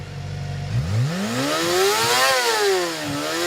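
A Honda CBR250F with a 249cc liquid-cooled inline-4 revs up from a low idle into a rising, high-pitched scream, dips briefly, then climbs again in a close, loud shriek with no talking.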